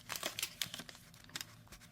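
Crinkly tracing paper handled inside a handmade junk journal, a quick series of soft crackling and rustling crinkles close by, fairly faint and with no talk.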